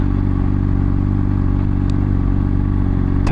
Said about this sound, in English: got on my bike